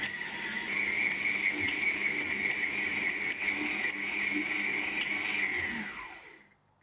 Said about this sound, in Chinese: 先用低速搅拌成团， 再用中速搅拌，直到可以拉出薄膜。